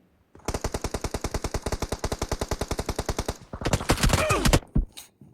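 A loud automatic gunfire burst from the video game PUBG fires about two dozen rapid, evenly spaced shots, then breaks into a noisy scuffle of further shots and impacts.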